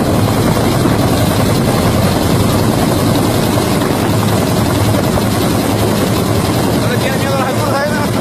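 A Hughes helicopter running, with its engine and rotor giving a loud, continuous low roar and whine that stays steady from start to end.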